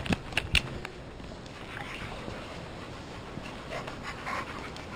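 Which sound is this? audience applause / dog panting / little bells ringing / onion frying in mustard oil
dog panting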